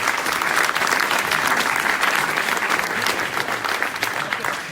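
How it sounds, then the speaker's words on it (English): An evening tech meetup audience on machine learning applauds a speaker being introduced, dense sustained clapping from a room full of people, loud and steady before gradually thinning toward the end. "A big applause for him."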